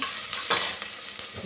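Onions, garlic and curry leaves frying in a pan, a loud, continuous close-up sizzle with a few stirring scrapes, no voices.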